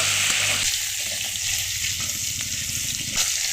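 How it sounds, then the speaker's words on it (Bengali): Shrimp coated in salt and turmeric frying in hot oil, a loud, steady, close sizzle and crackle with a low hum beneath, continuous throughout. "ওই তেলে দিয়ে দেবো চিংড়ি মাছ"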